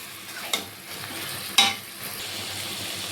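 Taro greens with prawns stir-fried in a pan: a steady sizzle runs throughout, with two sharp scrapes of the spatula against the pan standing out.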